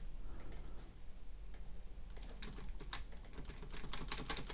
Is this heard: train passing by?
no